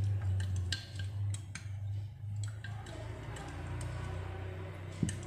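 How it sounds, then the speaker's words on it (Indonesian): A spoon stirs lime juice with turmeric powder in a small bowl, making quick light clinks and taps against the sides in an uneven rhythm, close and fairly clear. "Aduk, kita aduk-aduk Bunda Sister sampai bahannya tercampur rata."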